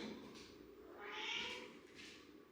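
A cat meows softly indoors, a faint drawn-out call rising and falling, with a second fainter meow at the end and no talking.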